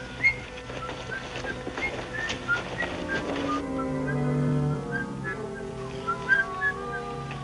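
Someone whistles a wandering tune, clear and fairly close, the melody rising and falling over a low steady hum.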